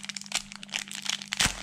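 Plastic packaging around an AliExpress fishing lure crinkles and crackles as it is pried open, with a continuous run of close, busy rustling and sharper crunches toward the end.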